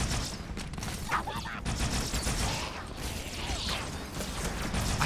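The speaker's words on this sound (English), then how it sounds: "I hate the needle gun." Needle gun fire in Halo 2 rattles in a rapid stream of sharp bursts and crackles, mixed with chaotic battle noise under a constant dense layer of game sound.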